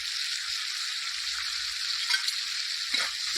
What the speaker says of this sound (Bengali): মশলাটাকে একটু ভালো করে কষে নেব।